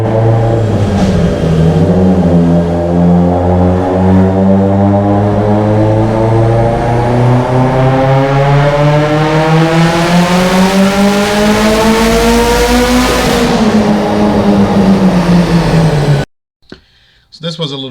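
A Mitsubishi EVO X with GSC S2 cams, a Precision 6466 turbo, a stock block and flex fuel revving on a dyno, engine pitch climbing steadily in one long loud pull, then cutting off abruptly, leaving a brief quiet tail.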